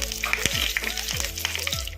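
Dry red chillies and curry leaves crackle and sizzle in hot oil for a chutney tempering, with a steady close-up frying hiss broken by a few sharp spoon clicks against the pan.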